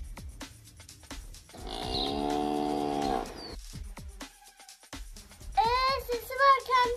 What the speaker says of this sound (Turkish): Dışarıda çıkamam, inek var. Aa, içeri girdi, sesini duyabiliyorum.